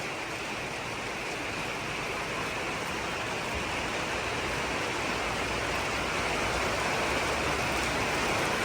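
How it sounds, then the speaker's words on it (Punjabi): Heavy rain pounds down in a dense, constant roar, drumming hard like hail on a surface, loud and unbroken throughout. "ਮੀਂਹ ਸੁਣੋ ਆਵਾਜ਼ ਮੀਂਹ ਦੀ ਕਰੋ ਚੈੱਕ ਆਵਾਜ਼ ਆਏ ਆ ਜਿਵੇਂ ਗੜੇ ਪੈਨੇ ਹੁੰਨੇ"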